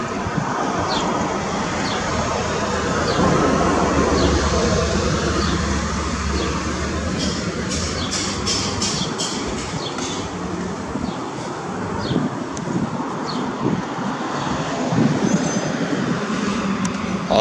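A subway train near Braintree rumbles steadily along the tracks, with wheel clatter and faint squeals from the rails throughout, no voices.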